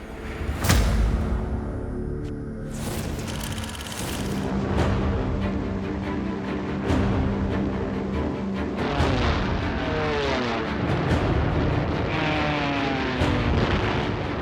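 Luftwaffe warplanes of spring 1940 fly past as a loud, steady propeller-engine drone with rising and falling tones, mixed with rumbling noise and what may be distant blasts.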